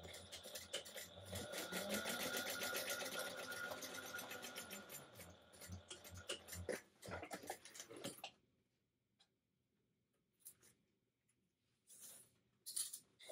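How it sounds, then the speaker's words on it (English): Sewing machine running a 1/8 inch seam on a handmade clutch with card slots: a steady, fast mechanical whir of stitching for about eight seconds, then it stops, leaving a few faint clicks and handling sounds. "you're going to go back and you're going to stitch again with 1/8 inch seam"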